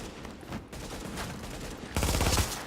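Shotgun fire in the video game Tom Clancy's The Division, a dense burst of gunshots swelling loud near the end over continuous game noise.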